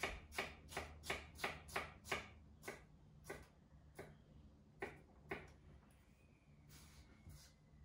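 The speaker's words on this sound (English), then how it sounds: "I'm gonna take half of my stack and just come back down cutting on it" A thin utility knife slices down through a stack of food on a cutting board, a quick run of regular, crisp chops that slows into sparser, softer cuts, close and quiet with no talk.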